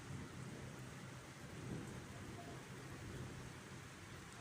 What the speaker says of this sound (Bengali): এখানে হঠাৎ প্রচুর পরিমাণ বৃষ্টি তুফান শুরু হয়ে গেছে।